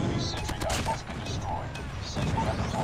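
AK47 firing in Call of Duty Mobile, several rapid sharp bursts with crashing impacts, close and loud, while a voice talks at times over the shooting.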